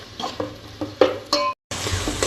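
Spinach paste cooks in a pan for palak paneer, a short run of close stirring scrapes and a soft sizzle, cut by a brief silent gap before the sizzling resumes.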